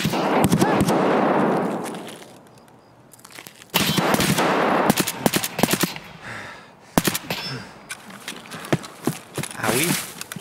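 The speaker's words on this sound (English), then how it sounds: "is that guy shooting at me?" Gunfire in Escape From Tarkov: bursts of sharp, loud shots in short rapid volleys separated by brief pauses, some cracks close and others more distant.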